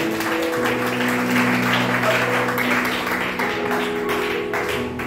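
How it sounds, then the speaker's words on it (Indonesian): A church congregation claps hands together in praise during a sermon service, a continuous wash of clapping close by, mixed with sustained instrumental or organ tones underneath and no voices heard. "Kita tepuk tangan bagi Tuhan."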